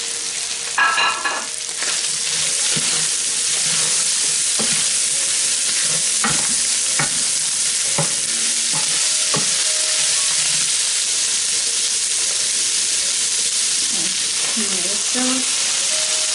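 Celery sizzles in a pan with soy sauce while being stir-fried, a loud continuous hiss with scraping stir strokes and occasional clinks, steady throughout.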